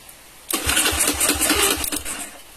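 A bored-up 130cc carbureted Honda Beat motorcycle cranks on its electric starter and catches right away, settling into a loud, close, rapidly pulsing idle with no voices.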